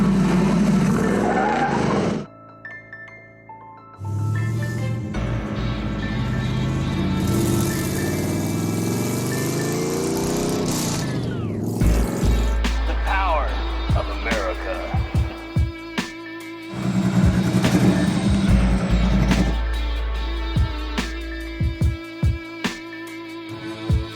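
A 2021 Ford Mustang with a stock 5.0 engine and a Roush supercharger launches and accelerates on a test drive. Loud engine revs rise and fall through gear changes, with tire squeal and a brief quieter gap between pulls.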